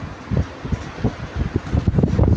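Gusty wind buffets the microphone on the open deck of the P&O cruise ship Britannia at Bonaire, coming in irregular low thumps and rushes that grow stronger toward the end.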